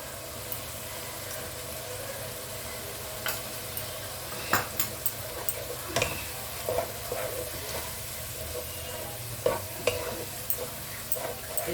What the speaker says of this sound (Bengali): এবারে আমি রসুন বাটাটাও দিয়ে দিচ্ছি।